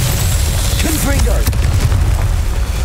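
A Confringo spell explosion in Hogwarts Legacy bursts as a deep, loud boom over rumbling game ambience, with a brief sharp crack in the middle and a voice speaking just before it.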